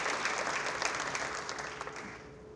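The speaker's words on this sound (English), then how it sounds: "Let's give B&B a huge round of applause." At an awards dinner, the audience claps for a sponsor in a short, moderately loud burst that stays steady and slowly eases off.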